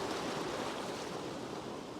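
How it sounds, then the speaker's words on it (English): Waves roll in on a rugged stretch of Scotland's east coast in gale-force winds, a dense, constant roar of surf and wind hiss, steady and fairly close with no voices. "I'm just going to wait for the waves to roll in over these little waves"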